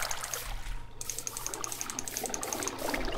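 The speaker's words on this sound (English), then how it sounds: "And just fill the whole thing with water." Water source blocks being placed in Minecraft, giving a steady trickling, pouring flow with light repeated clicks, continuous and fairly close with no voice over it.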